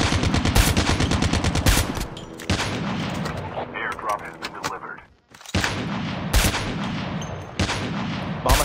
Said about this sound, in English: Snipe kayo dyan, Miko ah.